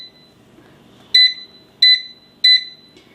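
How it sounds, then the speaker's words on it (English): Instant Vortex Plus air fryer beeping at high volume, three identical sharp electronic tones evenly spaced about two-thirds of a second apart, loud and close above faint room noise. "So it beeps really loud"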